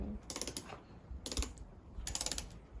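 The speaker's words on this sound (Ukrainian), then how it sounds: "А, так це вже ключ тріщотка." Ratchet wrench clicking in three quick bursts of rapid ratcheting while bolts on garden furniture are tightened during assembly, close and fairly loud with short pauses between bursts.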